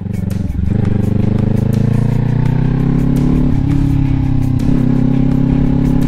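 A motorcycle engine runs loud and close throughout, its tone stepping down around the half-second mark and again near 3.5 and 4.7 seconds as the rider shifts, with steady drone between changes.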